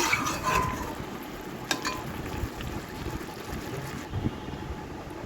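Chicken with papaya and pepper being fried and stirred in a pan, a steady dense sizzle with soft scraping, fairly close and continuous, no talking.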